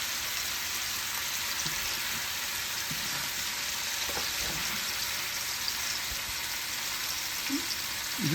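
Bacon-wrapped chicken browning in a frying pan, a constant dense sizzle held at an even level with a few soft clicks, close and unbroken, no voices.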